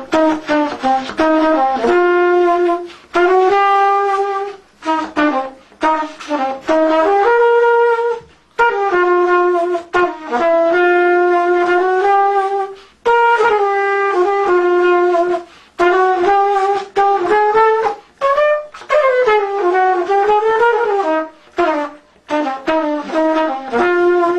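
Solo jazz melody played with a swinging, lilting rhythm, likely on trumpet, in long bright phrases broken by brief breaths, unaccompanied and close.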